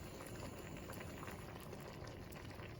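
A pot of cabbage soup with vegetables at a steady rolling boil, close and continuous bubbling and gurgling with no voices.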